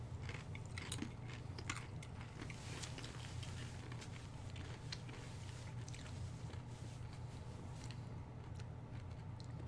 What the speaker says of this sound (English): And you just ate a chip.